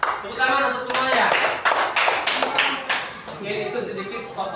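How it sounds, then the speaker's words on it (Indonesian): Group applause in a classroom, several bursts of hand clapping from students mixed with a speaking voice, fairly close and moderately loud. "tepuk tangan untuk semuanya"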